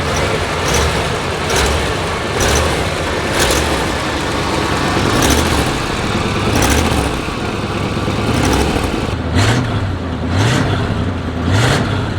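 An antique motorhome engine with a cold carburetor idles steadily and smoothly in a driveway, a continuous low rumble with even firing and slight periodic swells, close by, with no talking.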